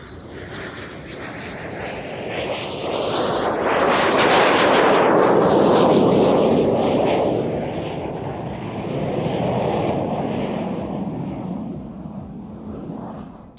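An Austrian Air Force Saab J105E jet flies past at an airshow in Turkey, a loud broadband roar that swells to a peak midway and then fades. A second, smaller surge follows, and there is no talk.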